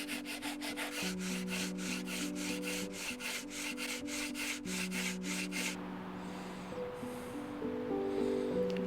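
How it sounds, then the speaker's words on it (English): Sandpaper rubs back and forth across a wooden top in quick, steady strokes, loud and close, with a brief pause near the end before the scraping resumes more softly; faint tonal background sound runs underneath throughout. "I think I'm going to keep going with the sandpaper."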